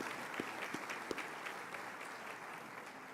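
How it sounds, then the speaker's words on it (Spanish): Scattered applause from an audience, a few sharp claps standing out over a steady patter, fairly distant and modest in volume. "les pido que demos un caluroso aplauso de felicitación a esta experiencia"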